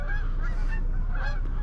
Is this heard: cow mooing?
no